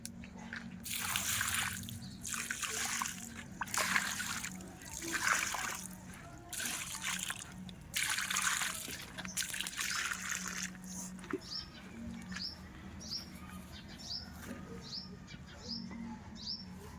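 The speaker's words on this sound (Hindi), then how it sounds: "तो अब हम इसमें पानी डालेंगे।" Water trickles and splashes as it is poured onto a newly planted lemon tree outdoors, in several uneven bursts, with birds chirping in the background and faint tweets toward the end.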